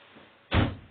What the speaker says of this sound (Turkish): Bir dakika kapıyı kapatayım.